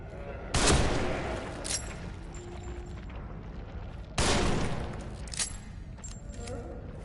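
Sniper rifle fire in The Evil Within, a survival horror game: two loud, sharp shots about three and a half seconds apart, each followed by a decaying rumble, with fainter game noises in between.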